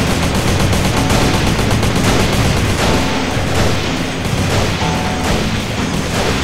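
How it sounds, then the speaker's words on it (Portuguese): Intense gunfire fills a GTA San Andreas SWAT-versus-army deathmatch, with rapid overlapping shots and booms that stay loud and continuous throughout and leave no pause. "Eu escuto os tiros"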